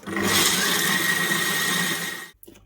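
A kitchen blender whirs loudly and steadily, blending wild garlic pesto with parmesan, for about two seconds before cutting off abruptly into near silence.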